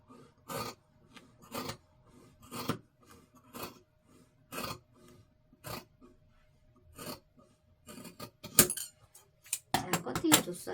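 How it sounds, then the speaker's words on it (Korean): Scissors snip through a pant leg's fabric along a marked 1 cm seam allowance, giving a series of crisp, close cuts at a steady pace that quicken into a denser flurry at the end. "그 1cm를 잘라줍니다. 뒤에는 너무 신경 쓰지 마시고 이렇게 커팅해줘요."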